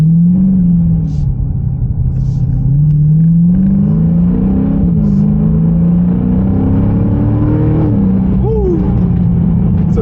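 A 2023 Dodge Challenger SRT 392 Scat Pack V8 rumbles loudly from inside the cabin as it accelerates, engine note climbing and shifting through gears, with a voice speaking briefly over it.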